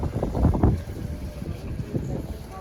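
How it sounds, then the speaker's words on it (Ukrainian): Gusty wind at an outdoor flea market in Lviv buffets the microphone with low, rumbling roars, steady and close, with no talking. "Щось вітер починається."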